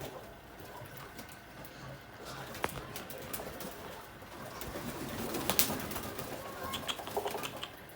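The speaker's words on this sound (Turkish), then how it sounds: "Aha karakan cariye bakın nasıl uçuyor" Pigeons, including a stray that has joined the flock after bath time, fly in close with soft flapping wings and low cooing over steady outdoor background noise, the activity building toward the middle.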